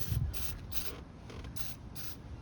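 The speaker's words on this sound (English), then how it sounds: "Give it another quick spray." Throttle body cleaner hisses in short bursts into the 2.4L throttle body of a Chevy Equinox. Several quick, fairly faint sprays repeat at a steady rhythm, with a soft mechanical rub near the start.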